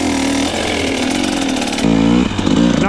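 Enduro dirt bike engine revving hard with the throttle held on, a loud, continuous buzzing roar that rises and shifts pitch midway as the revs change, close to the listener.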